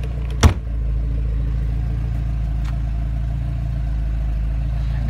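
A 1986 Porsche 944 Turbo idles with a B&B exhaust, a steady low, smooth rumble after a brief sharp clunk at the start, close and constant with no talk.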